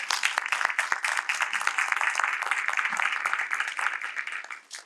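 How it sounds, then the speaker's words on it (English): An audience at a college political science forum gives a round of applause for a professor, many hands clapping in a steady, moderately distant burst that holds for several seconds before tapering off at the end. "Let's give Professor Navratil a round of applause."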